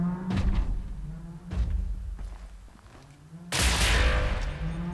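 Gunfire and heavy impacts in Wolfenstein: The New Order as a turret is shot out, with several thudding bursts followed by a loud, dense blast of noise near the end.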